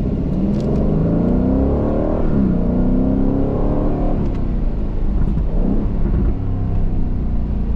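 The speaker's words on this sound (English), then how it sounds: "we get the loudest experience of the exhaust here in this Vantage" A 2023 Aston Martin Vantage F1 Edition accelerates hard on a track, its loud exhaust rising through revs with clear gear-change dips, a close, continuous engine roar with no voices.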